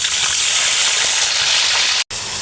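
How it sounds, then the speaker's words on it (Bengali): Yogurt-marinated chicken fries on high heat, making a loud, dense, continuous sizzle close up that drops out for an instant near the end. "আর চিকেনটা আমি একদম হিটে ভেজে নিচ্ছি"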